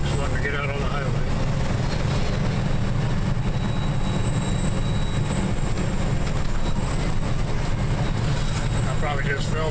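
Coal trains being loaded beneath silos at a coal mine near Paonia, Colorado: a continuous heavy industrial rumble with rolling railcar noise and a high metallic squeal, steady and loud throughout.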